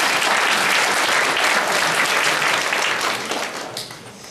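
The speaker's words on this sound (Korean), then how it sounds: "우리 박수로 맞이하겠습니다." A church congregation applauds at an evening service, a dense, loud, steady wash of clapping that fades slightly toward the end.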